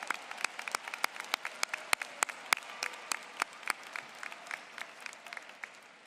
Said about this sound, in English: Let's give them a round of applause in honor of the service to these students.